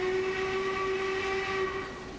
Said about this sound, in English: It's got two whistles, a short one